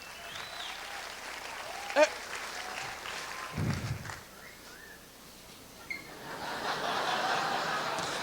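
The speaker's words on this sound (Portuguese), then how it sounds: "Um aplauso ao João Pereira." During a Portuguese stand-up comedy show, a fairly quiet room carries scattered chuckles and talk before applause swells toward the end into a broader, steady patter.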